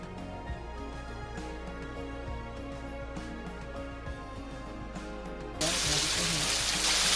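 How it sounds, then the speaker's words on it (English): Steady water flowing in the stream at Rose Valley Falls in the Los Padres National Forest near Ojai, a continuous close rush that grows louder and brighter toward the end, with no talk over it. "The water is really cold here too. And it's a nice peaceful sound."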